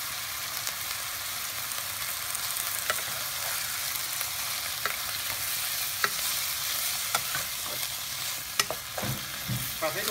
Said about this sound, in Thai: ผัดให้ตัวสุกครับ